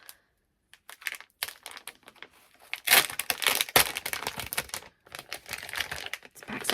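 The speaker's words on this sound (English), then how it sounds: "Ignore the crinkling." Sticky plastic bags crinkle and rustle in close, irregular bursts of crackling, louder in the second half, with short pauses between handling noises and no speech.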